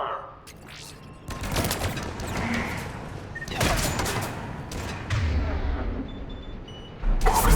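Sci-fi gunfire in the video game Mass Effect 3 during a firefight on Omega: rolling bursts of shots and booming impacts layered with game ambience, loud and dense in waves.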